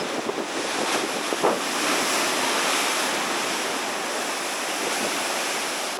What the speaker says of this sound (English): The kids are down there playing in the surf past this rock where the water is breaking.